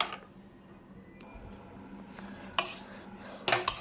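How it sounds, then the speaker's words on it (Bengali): Fried besan and ghee are stirred for laddu, a spoon scraping a metal pan steadily, with a few sharp clinks near the end and no voices. "এখন আমি এটিকে ভালো করে মিক্সড করে নেব।"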